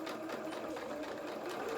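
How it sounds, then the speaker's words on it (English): Close, steady whir of a sewing machine running a straight stitch along fabric pieces with a quarter-inch seam allowance, one continuous short burst at constant speed with no voices. "just sew across this, just with a straight stitch"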